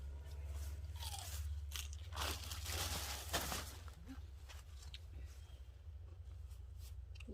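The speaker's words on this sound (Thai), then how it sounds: "เดี๋ยวฟังเสียงกัด" Close crunchy bites and chewing of a crisp vegetable, a few loud crunches early then softer chewing, over a low steady hum.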